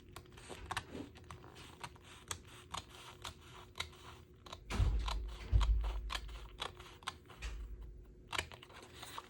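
Snipping cuts into a Gina K amethyst foil sheet while notching it, heard as a series of quiet, close crisp clicks and crunches with a couple of heavier thuds midway.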